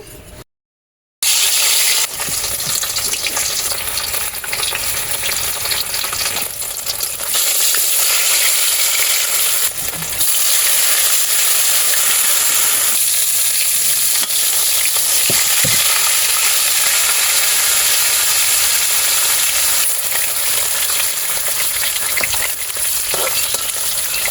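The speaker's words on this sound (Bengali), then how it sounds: "আমি পরিমাণ মতো তেল দিয়ে নিচ্ছি মাছটা ভেজে নেওয়ার জন্য।" Kalibaus fish frying in oil in a pan, giving a loud, steady sizzle with bubbling crackle that runs without a break, plus a few faint clinks of utensils, and no voices.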